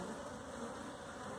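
Honey bees buzzing around a small nucleus hive holding two or three frames of bees, a faint, steady, continuous hum with no voices.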